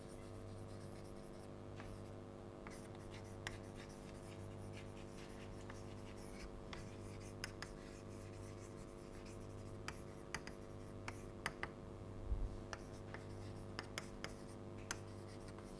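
Steady scratching strokes of writing on a board during a lecture, faint and continuous with small taps and pauses over a low hum, no voice heard.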